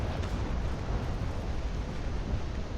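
Cannon fire in the naval battle video game Naval Action, Spain against England, rolls as a dense, continuous booming rumble that fills the whole moment without separate distinct shots.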